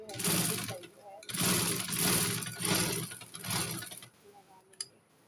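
A sewing machine stitches a frock for a little girl, running in several near bursts of rapid mechanical whirring, with short pauses between runs and a faint clack near the end.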